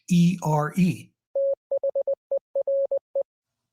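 Morse code tones from an amateur workshop radio: a steady, mid-pitched beeping of short and long keyed dits and dahs in an even rhythm. It follows a brief burst of speech and then plays alone, clear and close.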